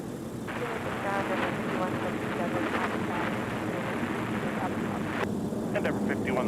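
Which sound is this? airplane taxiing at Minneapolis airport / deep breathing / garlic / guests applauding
airplane taxiing at Minneapolis airport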